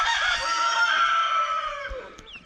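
A chicken on a farm lets out one drawn-out, crow-like call, close and clear. It tails off into quiet at the end.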